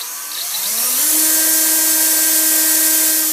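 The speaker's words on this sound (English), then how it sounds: "you have to drill a little hole in the corner so the cable can go in" A small power drill spins up with a rising whine and settles into a loud, steady high-pitched buzz while boring a little hole in a corner for a cable on a homemade go-kart.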